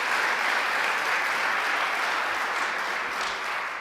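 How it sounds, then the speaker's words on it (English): An audience at a New York state government announcement applauds, a full, even wash of clapping from many people that stays steady and fairly loud through the whole stretch, with no speech on top. "So let's give him a round of applause as well"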